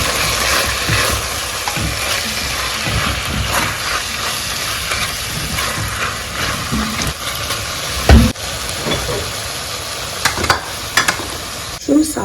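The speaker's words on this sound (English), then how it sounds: "And add our chopped tomatoes." Chopped tomatoes fry in a pan for chicken lasagna, a loud, continuous sizzle and hiss with stirring scrapes and a few sharp utensil knocks near the end.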